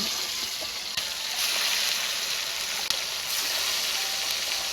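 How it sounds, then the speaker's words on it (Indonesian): Lemuru fish fry in a pan of hot oil, giving a steady, dense sizzle with a couple of sharp pops, heard close and alone. "Lor, goreng lemuru Lor."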